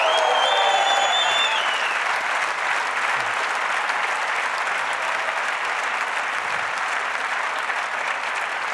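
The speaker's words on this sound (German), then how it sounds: "Und ich finde, für das haben sie einen besonderen Applaus verdient" A concert audience gives sustained, even applause for the sound, lighting and projection technicians, with a brief whistle-like tone early on, then a uniform roar of clapping that holds steady.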